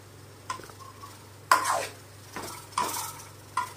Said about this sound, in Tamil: சேர்த்துட்டு கொஞ்சம் பரட்டி விடுங்க